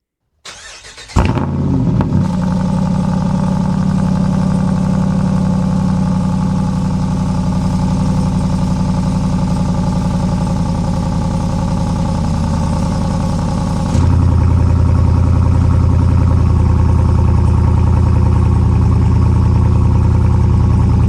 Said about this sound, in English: here are a couple of quick clips with the Borla exhaust with the valves open and valves closed